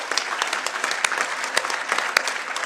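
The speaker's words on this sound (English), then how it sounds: "I think that deserves a round of applause." Sustained applause from a conference audience at an event marking 40 years of the Indonesia Update, dense, even clapping filling the room throughout.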